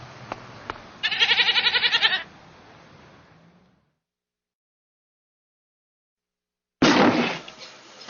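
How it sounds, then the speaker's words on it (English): A goat bleats once in a long, loud, wavering cry, set against faint room sound, then silence before a second sharp bleat bursts in near the end. "But her biggest challenge came when Billy the goat walked into her shop."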